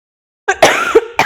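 A teacher with a slight cough lets out a close, loud cough with a throaty rasp, followed by a short second burst after a brief gap.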